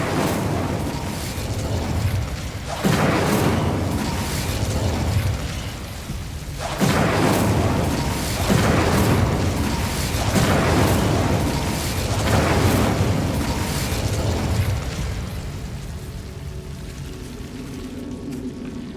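Incendio fire spells cast in Hogwarts Legacy, a series of loud whooshing, roaring fiery bursts repeating every few seconds over game ambience, with no talking.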